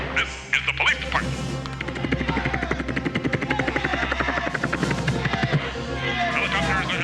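A voice imitates a helicopter, producing a fast, steady chopping pulse like rotor blades that holds for several seconds, loud and close.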